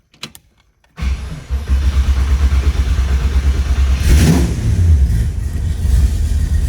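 A 1940 Chevrolet Sedan Delivery with a small block 350 V8 cranks briefly, catches after about a second, and settles into a loud, close rumbling idle with a rising rev midway before falling back.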